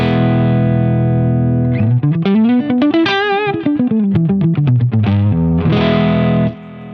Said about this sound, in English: Here's my clean sound. I'm using a custom Strat with a stacked humbucker, single coil and a humbucker.